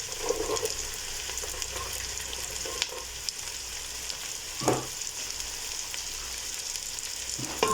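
Boiled beans fry in a pan for a rice dish, a steady close sizzle with occasional stirring knocks and clinks, no voices.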